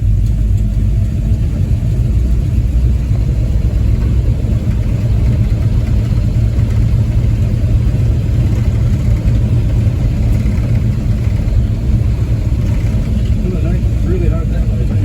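A big-block 440 V8 in a 1970 Plymouth Fury III with a Flowmaster exhaust rumbles steadily and loudly at close range throughout, a deep continuous drone with people talking over it.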